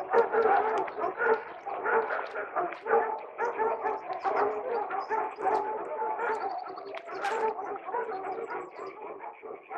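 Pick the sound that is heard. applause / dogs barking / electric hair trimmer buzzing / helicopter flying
dogs barking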